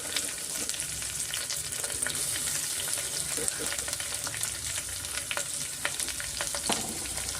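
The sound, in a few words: onion frying in pan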